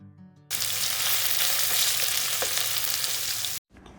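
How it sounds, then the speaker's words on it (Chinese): Hotpot base with scallion, ginger and garlic hits hot oil with a sudden loud, dense sizzle that holds for about three seconds before cutting off abruptly. "起锅烧油，把葱姜蒜火锅底料那个料汁倒进油里面，用小火煸炒"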